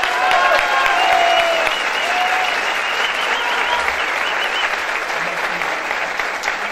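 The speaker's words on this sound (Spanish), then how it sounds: "Un aplauso para la señora y primerísima actriz, Ana Berta Steam, por favor." Theatre audience applauding an actress at a stage performance of La Jaula de las Locas, loud sustained clapping from a crowd with some cheering, gradually easing off.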